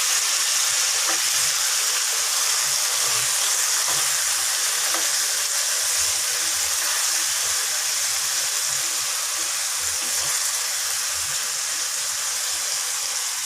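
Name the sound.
vegetables frying in a pan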